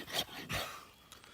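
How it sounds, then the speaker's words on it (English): A knife's 90-degree spine scrapes wood bark into shavings outdoors, making two short rasping strokes close by, with a faint scuff at the end. "this is a bit of the old bark scraping using the 90-degree spine"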